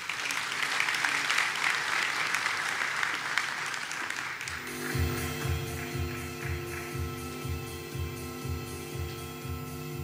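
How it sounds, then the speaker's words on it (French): Applause rolls through the audience at a graduation ceremony for an absent honoree, a dense clapping wash for about four seconds before giving way to a droning tonal sound with a regular pulsing beat, fairly distant. "je vais également vous demander de l'applaudir"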